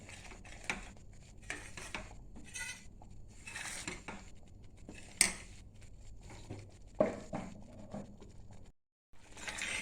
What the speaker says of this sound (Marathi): अशा पद्धतीने आपण ते साय आणि दूध चांगलं ह्याच्यामध्ये घोटून घेऊया